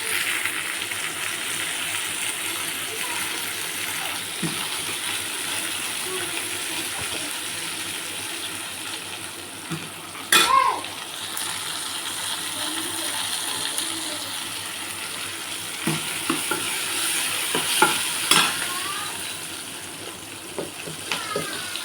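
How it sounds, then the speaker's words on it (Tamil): Chopped tomatoes, three of them, sizzle in a frying pan, giving a continuous watery hiss with occasional clinks and scraping from stirring, mid-level and steady throughout. "இப்போ நம்ம தக்காளி போட்டுடலாம். நான் 3 தக்காளி கட் பண்ணி வச்சுருக்கேன்,"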